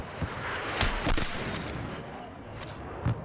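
Bursts of gunfire in the Battlefield 6 video game on the Firestorm map in Conquest mode, with several sharp, loud shots over a constant battle rumble.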